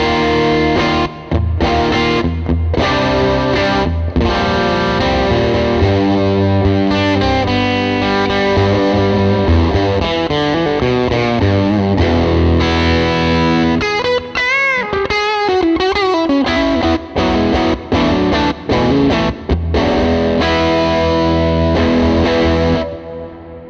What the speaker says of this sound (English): This is a 57 Bandmaster, and this is just a crunchy tone.